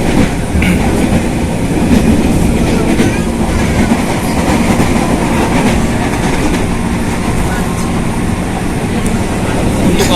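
A Jabodetabek Commuterline electric train running between stations, heard from inside the carriage as a steady loud rumble with rhythmic wheel clatter on the rails throughout.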